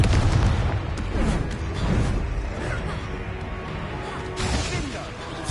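Confringo fire blast spell from the video game Hogwarts Legacy, crashing booms and explosive bursts mixed with combat noise, fairly loud throughout with a voice calling out spells.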